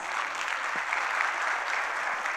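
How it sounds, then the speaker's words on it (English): A seated audience applauds a guest speaker at a session, a steady, dense wash of clapping that holds evenly throughout at moderate loudness, with no voices over it. "A big round of applause, mamas and papas"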